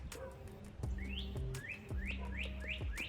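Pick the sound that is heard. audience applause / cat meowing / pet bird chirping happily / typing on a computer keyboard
pet bird chirping happily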